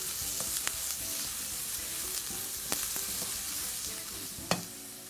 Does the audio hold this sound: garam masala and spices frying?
yes